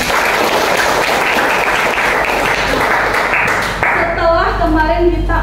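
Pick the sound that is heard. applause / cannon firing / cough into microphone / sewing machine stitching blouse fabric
applause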